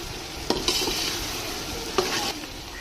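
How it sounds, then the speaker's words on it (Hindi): Tomatoes and spices hit a pan of frying pea pulao, a steady sizzle carrying a few quick scrapes and clinks of a stirring spoon, close and moderately quiet. "इनके साथ ही हम इनमें टमाटर ऐड करेंगे और ये कुछ स्पाइसेस हैं जिनको मैं साथ ही ऐड करूँगी।"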